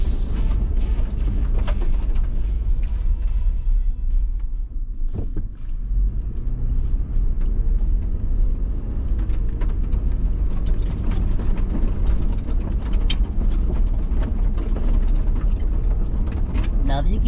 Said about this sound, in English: that's the sound of these tires kicking all that mud up.